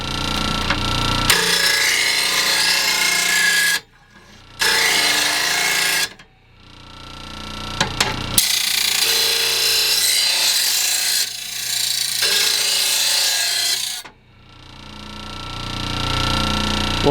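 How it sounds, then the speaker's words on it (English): A file rasps across the dull edge of a lawn mower blade in long, loud strokes, each a few seconds of harsh scraping with brief pauses between passes. "You just want to touch this one up a little bit, just on the edge, make it look sharp."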